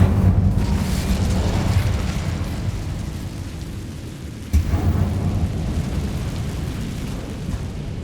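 A fire spell is cast in the Hogwarts Legacy video game, a loud rumbling roar of flame that fills the clip, eases slightly, then flares again with a sudden burst midway before rumbling on steadily.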